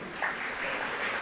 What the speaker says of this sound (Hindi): ज़ोरदार तालियों से इनका उमंग उत्साह बढ़ाएंगे।